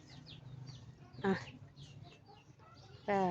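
Chickens cluck and call close by, with a couple of louder squawks standing out over a low background hum.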